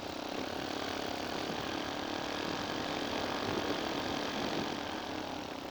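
A four-stroke paramotor engine running gently during break-in, a steady continuous propeller drone and engine hum, fairly close and even in loudness, with no voices.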